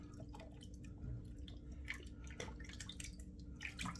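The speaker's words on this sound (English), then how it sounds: "just rinsing my hands off in the sink water, just to get the excess soap off them" Hands rinsed in warm sink water to clear off leftover shaving soap, giving soft close drips and small splashes against a low steady hum, with no talk.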